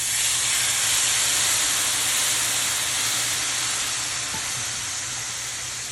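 Hot pan being deglazed for Thai braised pork, giving a loud, steady steamy hiss and sizzle that fades slightly toward the end, with no talking.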